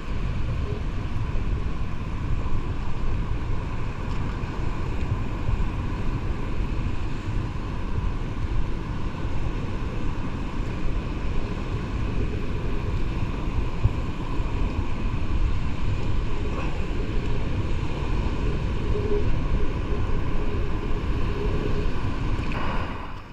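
Large ocean waves at a rocky shoreline roar continuously as a broad, steady wash with no distinct breaks, loud and unbroken throughout, with no voices.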